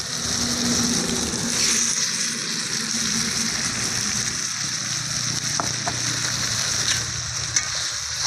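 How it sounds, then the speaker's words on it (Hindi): Mashed roasted brinjal and tomato fry in a pan with a dense, steady close sizzle, broken by a few faint scrapes of stirring and a small clink near the end. "मैश करने के बाद वाले पैन में हम डाल देंगे"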